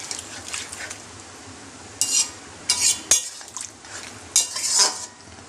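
A spoon stirs chicken kosha with whisked sour yogurt in a pot, sending scraping, clinking strokes against the metal in uneven bursts over a soft background sizzle.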